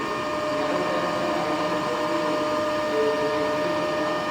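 DC shunt motor in a lab test rig running at its rated 1500 RPM, a loud steady whine and hum with constant tonal lines, unchanging throughout and without voices.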